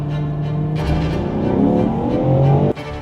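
A Ferrari Purosangue V12 on cold-weather tyres accelerating hard on a test track, its engine note climbing loudly through the revs before an abrupt drop as the throttle lifts.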